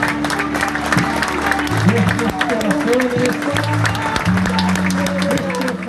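Townspeople applauding in a central plaza at a funeral farewell for the mayor of San José, steady clapping mixed with crying, with someone speaking loudly over it throughout.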